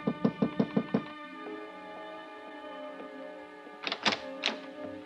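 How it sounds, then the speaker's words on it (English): Five firm, evenly spaced knocks strike a hotel room door, followed by sustained music and then a few more knocks ringing over the tones. "then I knocked on her door"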